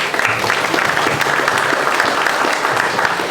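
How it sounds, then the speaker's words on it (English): A room of listeners at a technical talk on interactive analytics with Apache Spark gives a round of applause, steady and fairly loud broadband clapping that holds evenly for a few seconds without a clear break. "Hey, can we have a round of applause for Charlie and"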